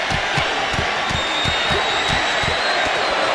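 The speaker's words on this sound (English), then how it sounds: "The fists are flying and this crowd is hot." A hot arena crowd in the video game WWE 2K26 roars and cheers in a continuous wash of noise, punctuated by regular thudding impacts.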